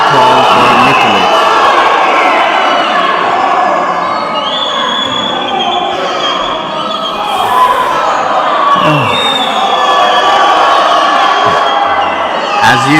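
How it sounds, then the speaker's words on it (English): Goalball arena crowd at the European Championships in Montenegro roaring in dense, sustained disapproval after a referee's call, with shouts and whistles rising and falling throughout, loud and close. "As you can hear, the crowd does not agree with that call."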